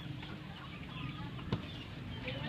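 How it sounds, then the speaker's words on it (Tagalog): Chickens cluck softly and continuously nearby over a low background hum, with one brief sharper sound midway. "Bigyan mo sa manok."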